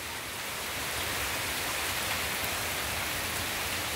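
Heavy rain pours down during a November storm in Brazil's northeast, a steady dense roar with no pauses that stays close and fairly loud for the whole stretch.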